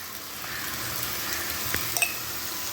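Coriander powder and chili sautéing in a pan for a tomato fish curry, a steady soft frying hiss with a couple of faint utensil taps near the end.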